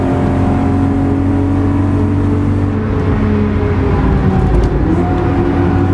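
BMW M3 V8 accelerating hard on the Nürburgring, a loud, sustained engine roar heard from inside the car with steady harmonic drone throughout.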